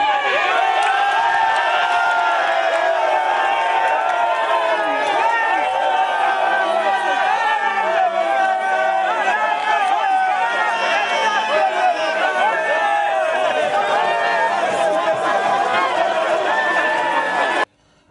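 A large crowd outdoors cheers, whoops and chatters loudly and continuously, welcoming a released detainee home after a long procession.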